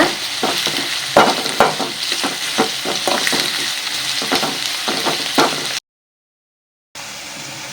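Onions sizzle and fry in a pan while being stirred until brown, a loud, close crackle broken by repeated scraping strokes of the spoon, cutting out to silence briefly near the end.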